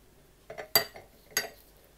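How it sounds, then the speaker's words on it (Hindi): A spoon clinks against a bowl a few times while spices, lemon juice and oil are stirred into yogurt, with sharp metallic taps and soft scraping between them, quiet and close. "इन सारी चीज़ों को अच्छी तरह मिक्स कर लेंगे।"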